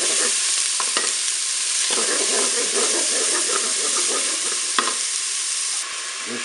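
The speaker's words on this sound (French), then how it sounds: "Je viens de mettre dans ma cuve les morceaux d'oignon. Je vais ajouter les lardons." Onion pieces and lardons fry in a Cookeo multicooker pot, giving a loud, steady, close sizzle with a few sharper stirring scrapes and no voices.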